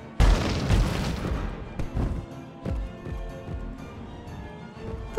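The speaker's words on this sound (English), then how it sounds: "All those explosions." Booming explosions in the video game Rock of Ages 2, with a catapult attack, a loud burst at the start followed by several smaller thuds and crashes over busy background noise.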